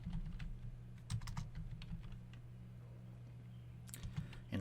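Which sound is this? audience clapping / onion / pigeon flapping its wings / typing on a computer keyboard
typing on a computer keyboard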